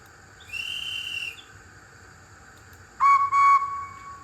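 Two short, high guard's whistle tones from an Oxford Rail J26 model train setup with DCC sound: a steady shrill note, a pause, then a louder two-part blast.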